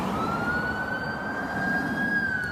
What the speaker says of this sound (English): Excuse the ambulance.